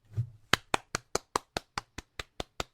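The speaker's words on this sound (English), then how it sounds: "Give yourself a round of applause." A single person claps about ten times in an even, brisk rhythm, each clap crisp and close, with a soft thump just before the first.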